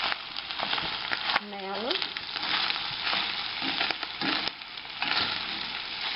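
Meat sizzles steadily in a pan with garlic and onion, a continuous frying hiss broken by occasional scrapes and clinks, while a voice briefly talks over it.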